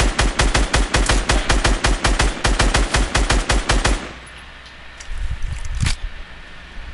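A minigun fires in Fortnite as a loud, rapid, evenly spaced stream of shots for about four seconds, then stops, leaving quieter ambience and one distant thud.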